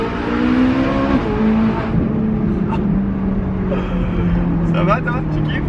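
A Ferrari engine revving up to 9000 rpm during a drift, loud and continuous with a rising, wavering engine tone, while people speak excitedly over it.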